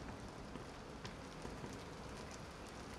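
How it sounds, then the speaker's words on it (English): Steady rain in the video game Bendy and the Dark Revival patters and hisses across a surface, a dense even wash of drops with no voices. "Oh, it's raining."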